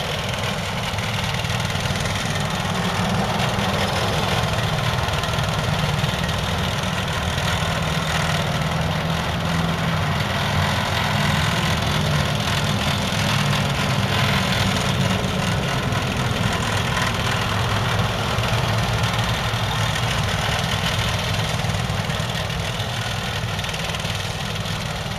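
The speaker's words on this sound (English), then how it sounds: "As you can see with the cutting power of our hybrid system, the thicker grass really isn't a problem." A hybrid slope mower runs steadily through thick grass, its engine a constant loud drone with low rumble and vibration throughout, no pauses or bogging down.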